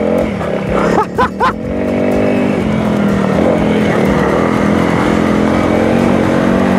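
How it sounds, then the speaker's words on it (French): A Honda CRF 300 L motorcycle being ridden on the road in Crete, its engine droning loudly and close with a few quick throttle blips early on, then a steady, sustained pull. "Elle est trop bien cette petite moto."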